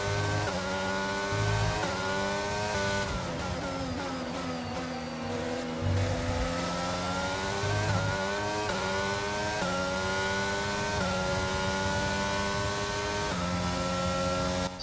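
Formula 1 cars race at the Canadian round in F1 22: a steady whining engine drone with clear harmonic tones that rise and fall as the cars shift gears and change speed, continuous and moderately loud.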